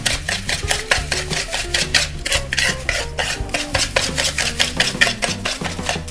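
Whisking sugar, vanilla powder and salt into a dough base for kuping gajah cookies, a fast steady rhythmic scraping and clicking of the whisk against the bowl, close and continuous with no speech.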